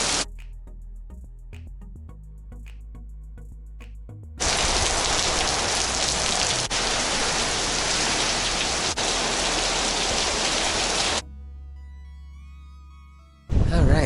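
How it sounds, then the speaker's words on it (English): Steady heavy rain in Chiayi County, Taiwan, hisses loudly for several seconds, preceded and followed by quieter stretches with a faint tonal hum. "So it's raining."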